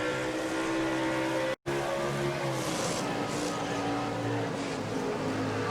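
Onboard a Chevrolet race truck in a stock-car truck series at the Springfield Fairgrounds mile, the engine drones loud and steady with shifting harmonic tones and a brief dropout, no talk.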